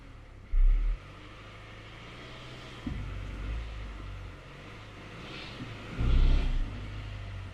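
A Rover CityRover idles steadily while being put into reverse, with its sticky brakes releasing; a low engine drone holds throughout, broken by a few louder thumps and a swell of revs near the end, with no talking.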